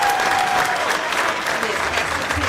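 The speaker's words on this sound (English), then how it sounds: "Can we please give them a very big round of applause?" An audience at an elementary school spring concert applauds with steady, full clapping that fills the room for a few seconds, with no talk over it.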